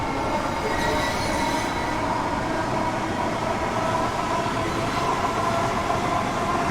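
A metro train in Train Simulator 3 runs along the rails with a constant, loud, dense rumble and faint high wheel squeal throughout, without pauses.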